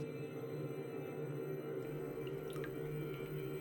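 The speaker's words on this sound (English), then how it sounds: "I wash my hands in the river." Hands are washed in a river, with soft, continuous water rushing and faint trickles and drips close by, quiet and steady throughout.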